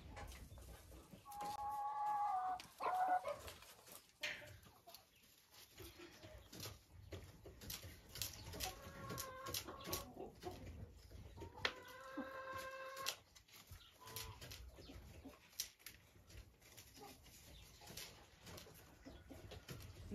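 Laying hens, young pullets just starting to lay, cluck and murmur in short bursts over a soft outdoor background, with some faint scattered bird calls.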